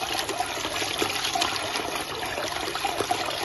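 A SHYSKY DC50K-24160S 24V DC brushless micro water pump with 14mm ports, running on a 24-volt supply and moving water, gives a steady, busy watery rush and trickle that holds at an even level from start to end.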